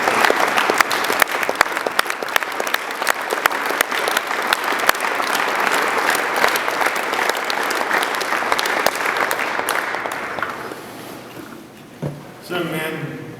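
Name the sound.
audience round of applause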